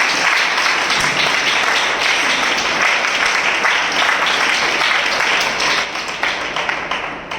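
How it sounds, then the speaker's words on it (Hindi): Loud, sustained applause fills a church assembly hall, a thick continuous wash of clapping that holds steady for several seconds before tapering and breaking up near the end. "हम जोरदार तालियों से उनका स्वागत करें।"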